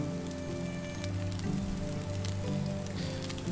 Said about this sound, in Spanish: bajo esta lluvia